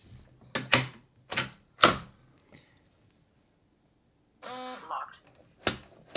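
Smart door lock unlocking by key card: a short burst of motorized whirring after several sharp clicks and taps, close and fairly quiet, with another click at the end.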